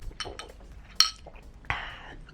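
A spoon stirring coffee in a cup gives two bright clinks, the second trailing into a short ring, with soft background rustle.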